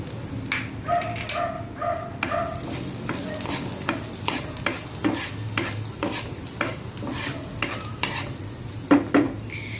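Garlic sizzles in hot oil in a pan over medium heat while a spatula stirs it in regular scraping strokes, with occasional clinks against the pan and no talking.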